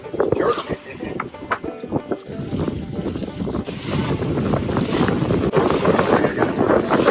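Strong wind buffets a sailboat on open water, roaring across the microphone with gusts and rumbling flaps, while water sloshes against the hull and people's voices come through faintly beneath the noise.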